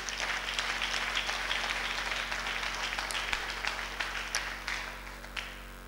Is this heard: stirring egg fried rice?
no